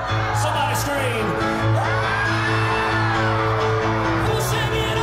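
A live concert audience whoops, yells and cheers together over sustained amplified music, the crowd noise loud and continuous throughout.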